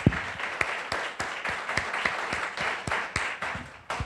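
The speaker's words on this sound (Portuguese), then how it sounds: "Aplaudamos o Deus vivo." A church congregation bursts into applause, a dense, sustained clapping crowd filling the space with sharp individual claps scattered through the steady wash.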